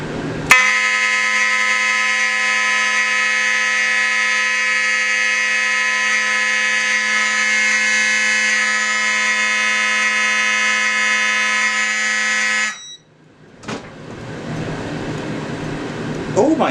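A fire alarm system sounds during a key-activated test, a loud, steady, unbroken electronic tone that holds for about twelve seconds before cutting off, followed by softer room noise.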